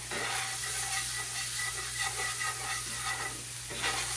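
Squeezed garlic fries in a pan for Vesuvio potatoes, a continuous close hiss and sizzle with soft stirring movement, steady in level with no voices over it.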